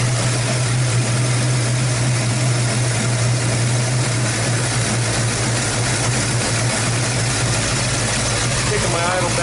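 A hot rod Ford Mustang engine idles steadily after its idle has been raised slightly, a loud, continuous low rumble holding an even tone throughout with no other sounds over it.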